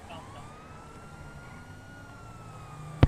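Police car sirens in a GTA roleplay video game wail faintly in the distance with a slow rising and falling pitch, over a low rumbling background, ending in a brief loud thump.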